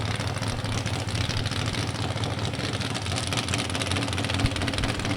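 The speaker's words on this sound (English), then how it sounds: "The 4-cylinder power plant is abused a little bit going down the racetrack" Four-cylinder dragster engine at an NHRA Division 3 drag race at Beech Bend Raceway Park, a loud continuous rough mechanical roar with a steady knocking texture throughout.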